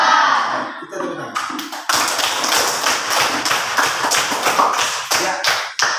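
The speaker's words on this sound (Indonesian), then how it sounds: "Kita tepuk tangan." A classroom of pupils claps hands together in loud, close, rhythmic bursts after a teacher's brief speech, the clapping continuing in uneven patterned beats.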